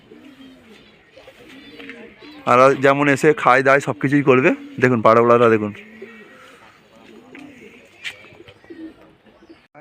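Pigeons coo softly as they fly in to a home loft, a low murmur beneath someone talking loudly nearby for several seconds in the middle.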